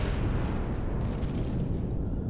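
Secondary explosion in the space survival game Empyrion Galactic Survival, a dense rumbling blast with a broad roar that stays loud and sustained for over two seconds.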